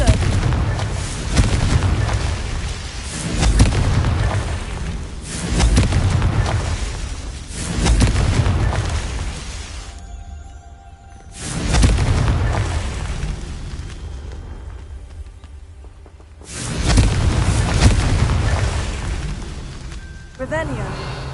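Repeated fiery spell explosions from combat in the Hogwarts Legacy video game, several booming bursts arriving in waves a few seconds apart, separated by brief quieter gaps, with game dialogue and a shouting voice mixed in.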